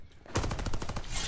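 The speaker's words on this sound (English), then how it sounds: "This feels like an SMG." Rapid automatic SMG fire in the multiplayer beta of Call of Duty: Vanguard, a dense, loud burst of evenly spaced shots that starts abruptly after a short quiet moment and keeps going to the end.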